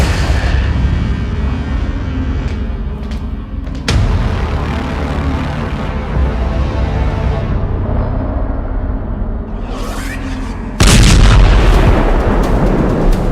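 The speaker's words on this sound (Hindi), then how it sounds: "लेबनान की तरफ से हिजबुल्लाह द्वारा दागे गए मिसाइल और रॉकेट लगातार इजराइल को परेशान कर रहे हैं।" Missiles and rockets fired from Lebanon toward Israel make loud, continuous rumbling booms, with sharp explosive bursts breaking through, one near the start and a heavier one near the end.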